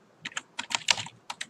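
Quick clusters of computer keyboard key presses while entering an email address, light clicky taps in short bursts, close and quiet.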